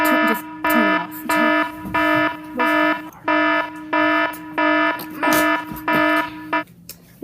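An electronic alarm goes off in repeated bursts of a shrill, buzzing tone, about a dozen evenly spaced beeps in a steady pulsing rhythm, loud and close, stopping near the end.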